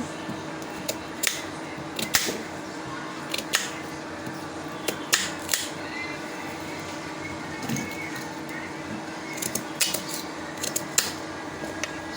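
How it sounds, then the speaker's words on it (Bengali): Pumpkin is cut up in a home kitchen for making pitha, with scattered crisp clicks and taps of the blade over a steady low background hum, close by and quiet. "পরিষ্কার করে কেটে নেব আমি কোমরটা"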